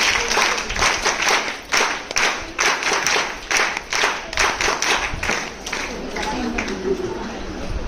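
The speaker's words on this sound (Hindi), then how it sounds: "भाई एक बार क्लैपिंग सीख लेंगे, है ना?" Group of women at a women's gathering clapping together in a patterned rhythm, loud and close with bursts of claps and short pauses, as a voice speaks over parts of it.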